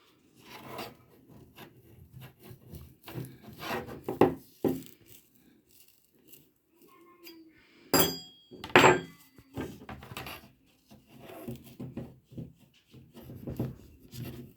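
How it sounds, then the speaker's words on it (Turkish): Scraping, grinding scratches as a knife blade twists into chipboard, boring a hole, in irregular bursts with pauses and a couple of sharper knocks, close and fairly quiet. "biz önce bir bıçaktan yardım alarak işaretlediğimiz yerden biraz delmeye başlıyoruz"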